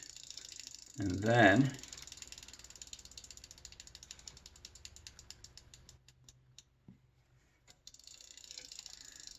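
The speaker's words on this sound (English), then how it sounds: "you'll know when the lube gets through because the little ratchet noises will start getting quiet" A close, rapid run of mechanical ratchet clicks from a bicycle freewheel being rotated, steady and dry, after a short burst of speech at the start.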